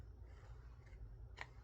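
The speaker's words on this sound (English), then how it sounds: "get my scissors and get this trimmed back" Scissors snip through paper during a papercrafting trim, a couple of quiet, close, crisp cuts near the end of a short, otherwise hushed moment.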